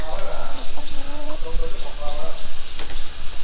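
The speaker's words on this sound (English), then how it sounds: "Big chickens, little chickens." Chickens cluck in short bursts against a steady hiss of background noise in a Chinese village, with several birds calling close by.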